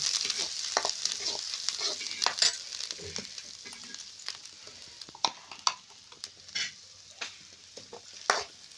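Masala frying in a kadhai hisses steadily while a spoon stirs it, sharp scraping clicks and knocks of metal against the pan popping up irregularly over the sizzle.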